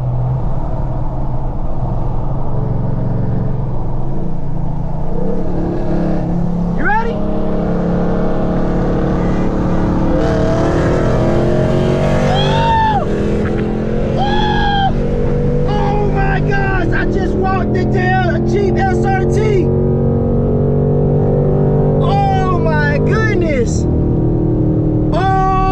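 A 2014 Jeep SRT races a cammed 2020 widebody Scat Pack: loud V8 engines rev and climb through repeated rising gear pulls, with sharp shifts and roaring acceleration passing close, overlapping and surging for the whole stretch.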